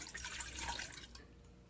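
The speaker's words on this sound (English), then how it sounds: "In a small saucepan, you're going to put 1 cup of water," A cup of water poured into a small saucepan for chocolate sauce, a brief steady splashing pour lasting about a second before cutting off, with no talking.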